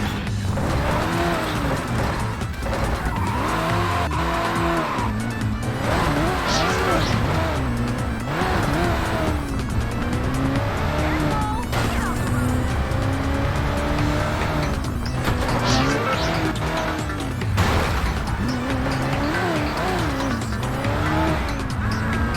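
Cars race and swerve through city streets in Midtown Madness 3, engines revving up and down while tires squeal and skid repeatedly, loud and continuous with no talk.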